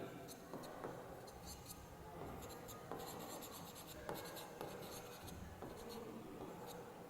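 Continuous scratchy strokes of writing on a classroom board as a math lesson on percentages goes on, close and quiet with short pauses between strokes.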